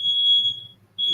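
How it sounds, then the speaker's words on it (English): A smoke detector sounds a loud, steady high-pitched beep that breaks off briefly and then starts again, over a faint low hum. "smoke detector going off"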